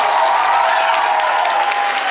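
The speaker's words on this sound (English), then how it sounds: "Let's give Erica a wonderful round of applause" A room full of audience members applauding at a Sandy Hook Promise gathering, steady and loud clapping sustained throughout with a faint crowd murmur underneath.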